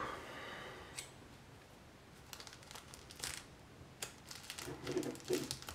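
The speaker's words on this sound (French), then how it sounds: "on va sortir les ciseaux" Quiet, sporadic snips of scissors cutting through speedcube packaging, with light crinkling and clicking between cuts.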